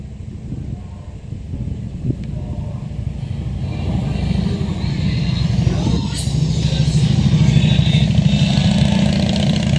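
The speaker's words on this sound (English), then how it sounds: "There's Skyline Drive with a bunch of noisy motorcycles." Several motorcycles travel along Skyline Drive, a mountain road in Shenandoah National Park, their engines a continuous rumble that grows steadily louder, with one passing closer near the middle, heard outdoors from a trailhead.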